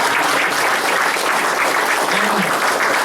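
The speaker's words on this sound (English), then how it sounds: "keep the applause going for our Premiership captain, Ken O'Neill." An audience at a Premiership reunion dinner claps loudly and continuously, a dense, sustained wash of applause from a crowd indoors.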